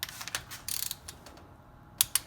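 A wrench tightens the top end bolts of a Yamaha Banshee to torque spec: a run of close, light ratcheting clicks, a brief pause, then two sharper, louder clicks near the end.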